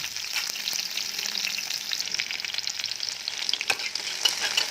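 Small onions sautéing in a pan for Tamil-style mutton curry: a continuous close sizzle with stirring scrapes and a few sharper crackles, no voices.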